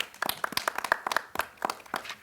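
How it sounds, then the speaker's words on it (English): A small audience at a Black History quiz competition claps, with sparse, uneven hand claps from a modest group spread over a couple of seconds, fairly close and moderately loud. "Round of applause, everybody."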